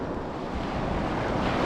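Night surf washes up on Navarre Beach in Florida, a continuous broadband rush of waves mixed with wind buffeting the microphone, building slightly louder toward the end.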